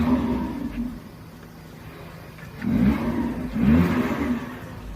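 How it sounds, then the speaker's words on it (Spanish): A car engine without a muffler revs twice in short bursts, its air filter intake roaring over a low steady idle, loud and close with no one speaking. "El filtro de aire es lo que más se escucha"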